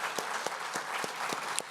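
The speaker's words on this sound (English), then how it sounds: "Could you please stand up so we could give you a round of applause?" Applause from an audience at a city's 2022 State of the City address, a steady dense patter of many hands clapping throughout, moderately loud and without talk.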